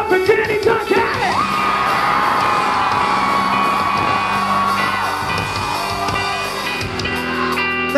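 A concert crowd at The Crofoot cheers for Danny Duncan during a show, with loud, sustained yelling and whooping that holds throughout and swells near the start.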